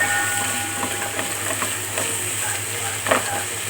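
Onions sauté in a pan with whole spices, green chillies and garlic for Thalassery chicken dum biryani. A steady, close sizzle runs under intermittent scraping stirs, with a constant low hum behind it.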